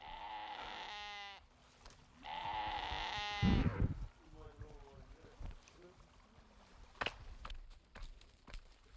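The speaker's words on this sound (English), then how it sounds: "The sheep went over there." Sheep on a farm in Xinjiang let out two long, loud bleats close to the microphone, then softer bleats and scattered clatter and movement follow across a busy outdoor scene.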